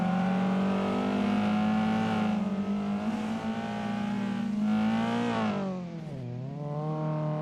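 A sim racing car drifts through touge corners in Assetto Corsa, its engine droning and revving steadily, pitch rising and falling as it slides, no talking.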